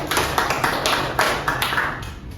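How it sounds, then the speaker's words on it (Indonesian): A classroom of students claps together during a lesson. The hand claps fall in a loose, roughly regular rhythm of sharp bursts, fairly close, with no talking over them. "Boleh diberikan tepuk tangan sekali."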